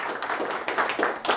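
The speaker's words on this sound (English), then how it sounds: "golf clap" A small audience gives a golf clap: quiet, polite applause with a few hands tapping softly in loose, uneven rhythm, close and brief.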